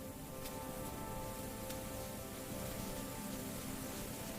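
Steady rain falling on a surface, a dense, even patter of drops with a few louder individual splashes, continuous and fairly faint with no voices.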